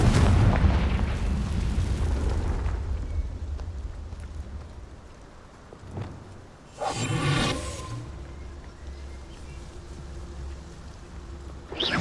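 A Confringo spell blast in the Hogwarts Legacy video game: a burst of loud crackling rumble, then a sharp hit near six seconds and a second whooshing blast around seven seconds fading into low ambience.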